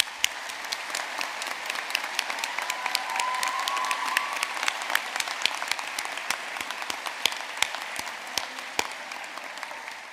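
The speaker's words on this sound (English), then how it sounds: "I wonder if you'd join with me in giving them a round of applause" Graduates at a university graduation ceremony in Belfast give a round of applause, many distinct hand claps rising over a soft crowd wash, fairly quiet and evenly sustained throughout.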